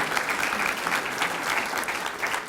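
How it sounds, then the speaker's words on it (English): Continuous applause from a crowd at a school district's State of the District event, thick and sustained with no pauses. "Let's give them a round of applause as well."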